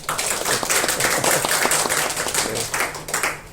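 A church congregation gives a warm round of applause at a Sunday service to welcome a first-time visitor, with dense clapping from many hands that fades toward the end.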